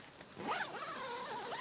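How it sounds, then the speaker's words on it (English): Nylon tent door zipper on a Big Agnes Slater UL2+ ultralight tent being pulled shut, one smooth continuous zip lasting over a second, close and fairly quiet. "Here on the inside with the door, I'll go ahead and zip that shut for you."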